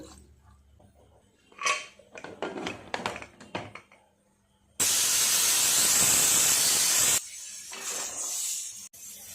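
A pressure cooker holding braised potatoes and water, a few scattered clicks and knocks, then a sudden loud steam hiss bursting out for about two seconds before falling back to a softer hiss.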